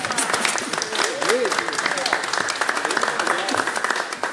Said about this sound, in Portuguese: vamos bater palmas aqui